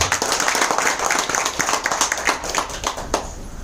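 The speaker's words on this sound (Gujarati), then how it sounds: "પહેલા આપણા મૌલિકભાઈ માટે જોરદાર તાળી દઈએ." A seminar audience at a business gathering clapping together, a dense, continuous patter of many hands at moderate distance that thins slightly toward the end.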